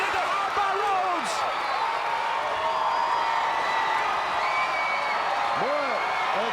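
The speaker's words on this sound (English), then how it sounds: "Boy, the crowd goes wild" A wrestling arena crowd roars steadily during a Clash of the Champions event, loud sustained cheering and noise throughout while a commentator speaks over it.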